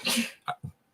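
One sharp sneeze, a short burst with two quick fainter catches right after it, close and alone in a quiet room.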